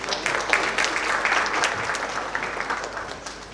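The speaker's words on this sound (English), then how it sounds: "have a big round of applause for Mr." An audience claps to welcome a speaker at a healthcare industry event, with moderately distant, even applause throughout.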